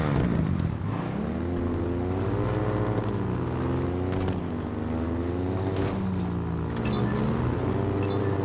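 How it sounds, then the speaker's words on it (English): Vehicle engines in Halo Infinite drone continuously with a wavering, rising and falling pitch, loud and close. Sharp clanks and knocks break in near the end. "Vehicle sounds are horrendous."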